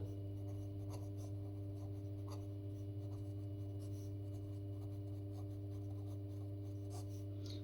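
Pen or pencil scratches softly on paper while a maths calculation is written out, faint intermittent strokes sitting under a constant low electrical hum.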